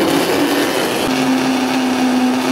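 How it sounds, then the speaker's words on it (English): A blender blending banana and apple with water whirs loudly and steadily, its motor holding a constant hum throughout with a slight shift in pitch partway through. "I'm just going to add just some water and I'm going to start blending."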